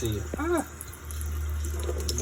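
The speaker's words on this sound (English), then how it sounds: "you'll want to go ahead and scrape it off, and under the water it'll come off." Tap water runs steadily while fiddleheads are scraped clean under the stream by hand, a continuous close splashing hiss with a brief voice near the start.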